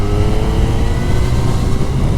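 Triumph Street Triple RS motorcycle accelerating on a demo ride, a loud continuous engine drone with heavy low rumble and wind, recorded close from the rider's position, no talk.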